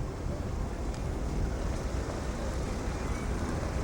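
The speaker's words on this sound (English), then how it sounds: "It's like a ferry boat or ship is coming in." Broad, steady rumble of a ferry's engine coming into port on a Scottish estuary, mixed with wind buffeting and water wash, continuous and fairly loud with no talking.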